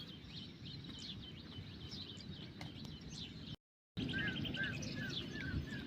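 Small sparrows chirping in a village: quick, repeated high tweets and chirps from several birds over a low background hum, fairly faint, with a brief dropout partway through.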